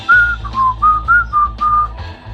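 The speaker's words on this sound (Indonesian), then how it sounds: "Di seberang sana, pemuda berambut gondrong itu kembali keluarkan suara bersiul." A person whistles a short tune of about six clear notes, rising and falling, close and fairly loud with brief breaths between.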